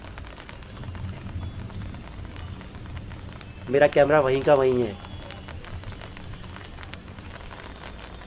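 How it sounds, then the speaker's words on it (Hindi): Light drizzle falls outdoors as a faint, continuous patter throughout, with someone briefly speaking in Hindi partway through. "बूंदाबांदी अब पहले से हल्की हो गई है, ये देखिए।"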